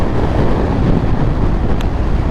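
Strong wind buffets the microphone outdoors near Phoenix during a CBR500R motorcycle ride, producing a loud, continuous low rumble and roar with no pauses.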